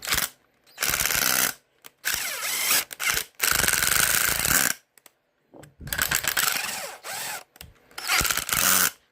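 Power drill widening a hole for a 220V AC outlet, running in several loud, grinding bursts of a few seconds each, separated by short pauses.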